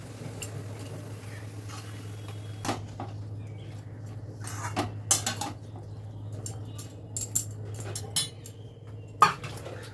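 Chopped spinach and other vegetables are stirred in a cooking pot. Scattered scraping and clinking of a spoon against the pot sound close and fairly quiet over a low steady hum.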